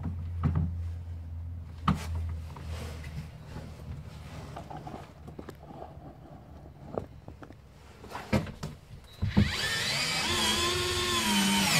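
A power drill drives screws while a Keter High Store plastic storage shed is assembled. Scattered knocks and clatter lead into a sustained, close motor whine over the last couple of seconds.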